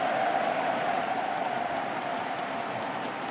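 A large esports crowd at the LEC Season Finals grand final between G2 Esports and Fnatic cheers and applauds in a dense, steady roar that holds loud and continuous throughout.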